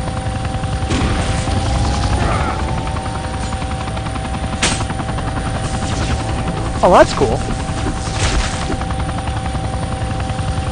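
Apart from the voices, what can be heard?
helicopter with gunfire in the video game Vivisector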